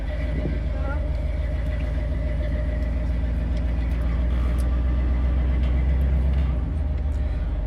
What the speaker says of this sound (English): It's still cool that she's driving Pop's truck.